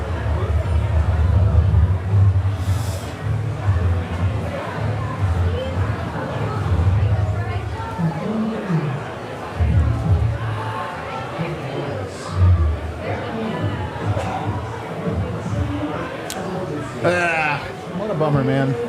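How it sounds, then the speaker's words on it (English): A bar crowd chatters throughout during a Nuggets vs. Timberwolves Game 6 watch-along, a steady murmur of many overlapping voices with louder nearby talking rising above it at times. "We have a great crowd at the bar tonight, too."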